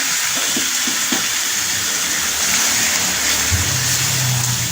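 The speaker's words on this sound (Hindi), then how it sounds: "तो यहाँ पे फ्लेम को हम हाई रखेंगे और 5-7 मिनट भूनेंगे इसको, चिकन को, मैरिनेट किए हुए चिकन को" Marinated chicken for chicken korma fries over a high flame, a loud steady sizzling hiss with a few soft knocks and a low rumble coming in near the end.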